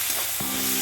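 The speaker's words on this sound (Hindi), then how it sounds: "अभी हम ये काटा हुआ टोमेटो हम डाल देते हैं" Chopped tomatoes hitting a hot pan and starting to fry for a spicy corn and methi dish, a steady close sizzle with a soft thump as they land.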